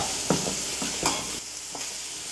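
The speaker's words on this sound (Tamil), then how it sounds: "இந்த பொடியோட பச்சை வாசனை போகிற அளவுக்கு வதக்கிக்கலாம்" Ground chili powder, garam masala and turmeric stirred into onion and tomato in hot oil for a Tamil fish curry, giving a steady close sizzle broken by several scraping stirs of a spoon in the pan.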